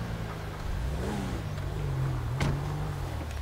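A game car in GTA V pulls away, its engine revving and whirring steadily at close range with a short rising pass near the middle and no talk over it.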